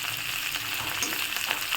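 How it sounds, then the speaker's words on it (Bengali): Potato and cauliflower pieces fry in hot oil in a pan while being turned, giving a steady close hiss and sizzle with a few faint spatula scrapes over a short stretch. "যেই সাইডগুলো ভাজা হয়নি সেই সাইডগুলো আমি একটু উল্টে দিচ্ছি"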